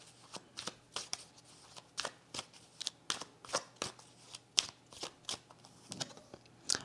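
Tarot cards handled and laid out during a reading, a quick run of soft papery snaps and flicks in an irregular rhythm, close and quiet.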